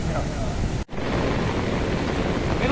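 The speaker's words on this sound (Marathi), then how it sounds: "धबधबा पडतो मानव निर्मित तयार केलेलं" Steady, dense rushing of water falling from a man-made waterfall at a dam in Lanja, Ratnagiri, fills the whole clip, loud and broadband, with one abrupt brief dropout near the start.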